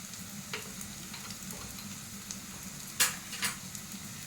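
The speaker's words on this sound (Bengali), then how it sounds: "ভালো করে কষিয়ে নেবো মশলাটাকে" Ground spices, including cumin, chili powder and turmeric with salt and a little sugar, fry in a pan for prawn pulao, giving a steady low sizzle broken by a few sharp stirring scrapes near the end.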